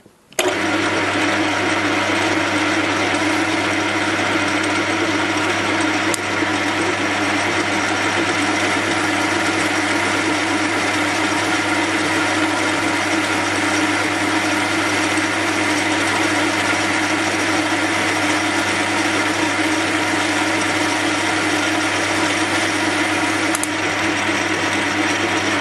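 A lathe turning aluminium dry with a cheap carbide insert gives a loud, continuous mechanical drone with a steady low hum and a dense hiss of cutting noise, unbroken for the whole stretch, with no talking.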